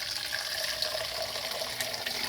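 Water runs from a tap in a steady close hiss and splash, continuous and moderately faint, with no voices.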